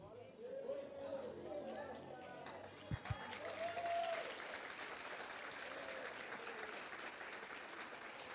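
A congregation in a small church with a bare earth floor claps along to a worship song, a steady wash of hand claps under singing voices and chatter, with a couple of sharp louder claps near the middle.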